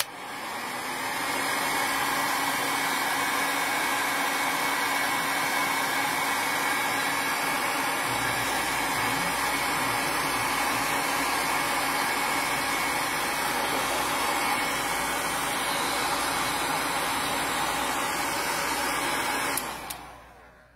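A hair dryer blows steadily on wet paint on a painting, a loud continuous whir that switches on, runs without a break for about eighteen seconds and then cuts off.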